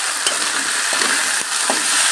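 Ginger garlic paste sizzles and fries in a pan for a Bengali tarka, giving a constant bright hiss with small stirring clicks and no talking.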